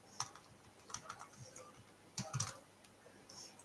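Quiet, close typing on a computer keyboard while HTML heading tags are written, with irregular bursts of clicky keystrokes and short pauses between them.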